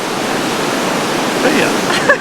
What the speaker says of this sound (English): you definitely get the benefit of the waterfalls, but it's really misty here